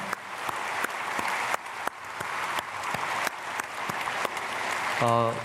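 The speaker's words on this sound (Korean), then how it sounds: "우리 특순하시고 찬양대 우리 다 박수로 축복하겠습니다." Church congregation at a Sunday worship service applauding the choir and special performers, a broad crowd clapping with sharp individual claps standing out, ending as a tonal sound enters near the close.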